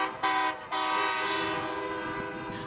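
Truck horns blare loudly from a Freedom Convoy passing below the Ramsey overpass in Montana: a sustained, bright honk breaks off for a moment, resumes and holds, then another starts near the end, with no talk.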